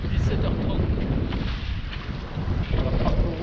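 Strong wind on a sailboat crossing from Menorca to Palamós, roaring and buffeting the microphone over rushing sea water in a loud, continuous wash.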